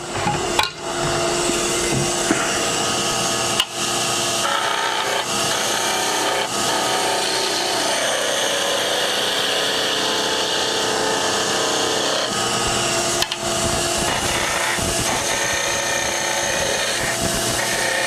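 A skew chisel cuts a wooden spindle turning on a lathe, making a continuous loud scraping hiss with a few sharp knocks and brief breaks as the tool touches the wood, no voices.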